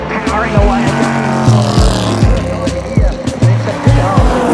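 Vintage racing cars at the Goodwood Revival roar past close by in quick succession, engines rising and dropping with sharp Doppler sweeps, loud and continuous.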